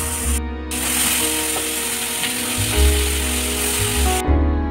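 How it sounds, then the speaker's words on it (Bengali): Chicken pieces dropped into hot oil with salt and turmeric, a steady loud sizzle and crackle with clattering stirring noises close by. "আর এই তেলের মধ্যে দিয়ে দেব মাংস।"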